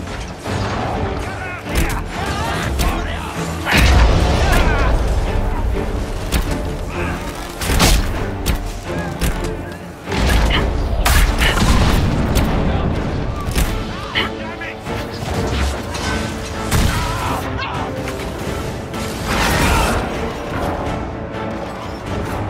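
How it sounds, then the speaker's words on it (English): Trebuchet firing in Dragon Age: Inquisition, heard as repeated heavy crashes, creaks and booming impacts amid dense battle noise, with voices talking over the din. "Trebuchet firing."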